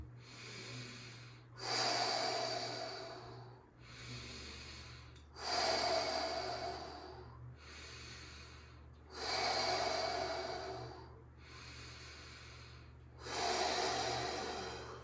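Slow deep breathing during a yin yoga class: four long audible inhales and exhales repeating every few seconds, close and soft over a low steady hum, no talk.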